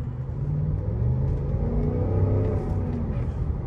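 A Cadillac DTS sedan's V8 engine idles with a deep, steady rumble and swells slightly as it revs, heard up close without any talking.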